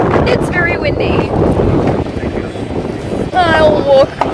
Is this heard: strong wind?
yes